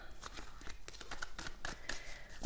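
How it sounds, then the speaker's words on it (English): Tarot cards shuffled by hand during a reading, a steady soft riffling and slapping of the deck with quick repeated flicks and crisp taps, close and fairly quiet, with no talking over it. "So I do like to shuffle on camera for that."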